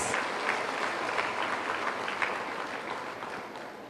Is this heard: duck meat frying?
no